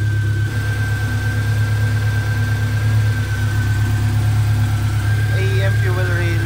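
A modified car engine idles with a steady low rumble and a constant whine, close by, with a few faint chirping sounds near the end.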